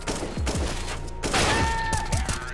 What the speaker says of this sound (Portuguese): você não acertou um tiro, Lerin.